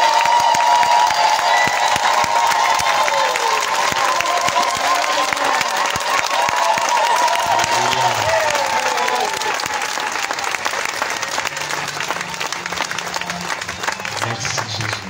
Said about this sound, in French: on va à nouveau l'acclamer très fort